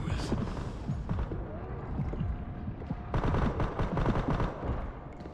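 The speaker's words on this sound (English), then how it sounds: "Machine gun's probably best in this moment" Rapid machine gun fire in a video game, dense rattling bursts that continue almost without pause and grow fuller in the second half, loud and close, with a voice talking partly over it.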